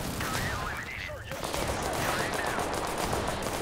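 Shotgun fire in the shooter game Total Conflict: Resistance, a dense burst of gunfire mixed with battle noise, loud and close, with rapid repeated shots crowding the whole moment.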